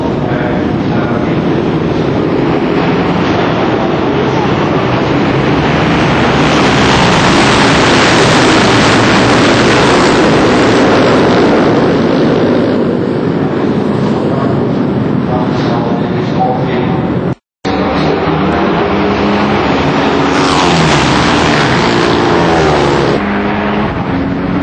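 Supermono racing motorcycles roar off the start line at the Assen circuit in the Netherlands, a loud, dense, continuous wall of engine noise from many bikes accelerating hard, broken by one brief dropout near the end.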